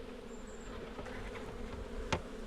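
Honeybees at the entrance of a weak colony's hive give off a steady, close, continuous buzzing hum, with one sharp tick near the end and no voices.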